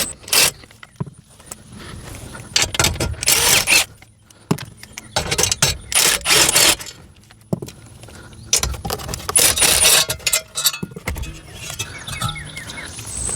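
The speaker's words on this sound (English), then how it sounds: "remove six 8mm screws holding the metal panel to the dash" Tools work on the dash of a Ford Ranger as six 8mm screws holding a metal panel are removed: repeated close bursts of metallic rattling and clicking separated by brief pauses.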